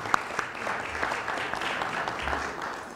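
Audience applause at a round-table plenary session on the liberal arts, a moderate, even patter of clapping from a seated crowd with a few crisper claps near the start.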